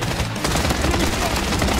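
Rapid automatic gunfire from a P90 submachine gun in the shooter game Blood Strike, a dense, loud stream of shots that rattles on nearly without pause across the whole moment.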